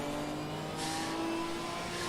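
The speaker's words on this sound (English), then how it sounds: "Look at that Maserati!" A Maserati race car in a racing video game revs its engine with a steady mid-pitched drone, and a brief rising whoosh of acceleration comes partway through. It plays alone and fairly quietly, with no talking.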